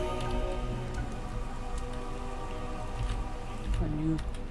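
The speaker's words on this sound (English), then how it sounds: "Whoa, what's going on with the sky? It's raining blood." Steady rain falls in Pathfinder: Wrath of the Righteous under a sky raining blood, a dense continuous patter with a low rumbling bed and game music tones beneath, unbroken throughout.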